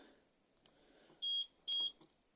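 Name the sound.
caravan alarm handset beeping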